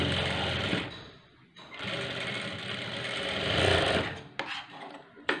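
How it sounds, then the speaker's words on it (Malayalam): A sewing machine stitching a blouse sleeve in thin, lightweight fabric runs in a loud, close, continuous whir, pausing briefly once before speeding up again and stopping with a few final clicks. "ഇതുപോലെ ഒന്ന് തയ്ച്ചെടുക്കുക"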